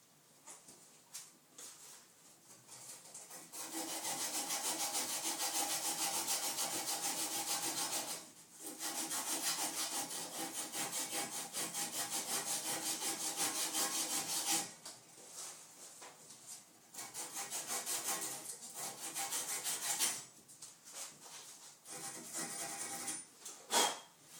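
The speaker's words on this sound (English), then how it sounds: "I might even sand it down a little bit more just to make sure it's nice and clean" Sandpaper rubs over a copper pipe joint to clean it before sweating with solder, a close, steady scraping that runs in long sustained stretches with brief pauses between passes.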